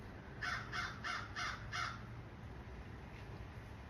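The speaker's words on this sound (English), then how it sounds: "sorry, I'm distracted with the birds" Crows cawing outdoors: five harsh caws in an even row, moderately close, then one fainter call a little later, over a low background hum with no speech.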